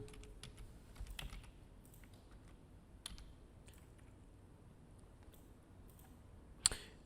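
Typing a layer name on a computer keyboard in a digital art program, a few quiet close clicks and key taps scattered over several seconds, ending on one sharper click, with no talk.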